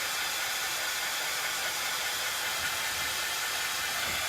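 A hair dryer blows steadily on freshly painted pink sign pieces, a loud, close, continuous airy whoosh with a faint motor hum and no talking.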